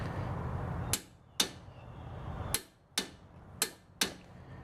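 Six sharp, loud clicks from a torque wrench tightening a 22 mm strut bolt to 177 foot-pounds on a 2010 Toyota Corolla front strut, spaced irregularly over a steady background hum.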